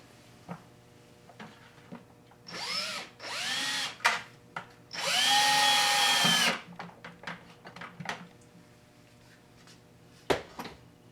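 Power drill driving the last screw, fitted with a washer, into a homemade cyclone separator; several short whirring bursts followed by one long sustained run, close and loud, then light clatter.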